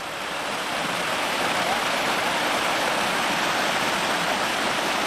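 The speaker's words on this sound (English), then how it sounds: "as the water comes rushing down" Water rushing down a stream in a pastoral hillside setting, a dense steady roar of flowing water that swells in at the start and continues unbroken, close and fairly loud.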